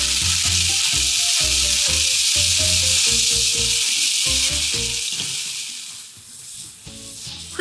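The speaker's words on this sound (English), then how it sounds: "Quickly stir fry," Konnyaku and kelp stir-frying with rich mushroom mentsuyu sizzle steadily and close up, a bright continuous hiss that fades slightly toward the end, over soft rhythmic background music.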